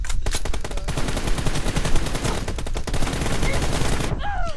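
Rapid automatic gunfire from the PUBG battle royale game during an arena match, dense overlapping volleys of loud shots in quick bursts, with a voice briefly heard near the end.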